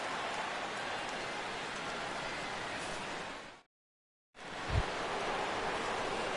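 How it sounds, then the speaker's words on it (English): Steady rain falls on a ballpark in the baseball video game MLB The Show 16, a dense unbroken hiss that cuts out briefly, then resumes with a soft low thump. "the rain continues to fall here"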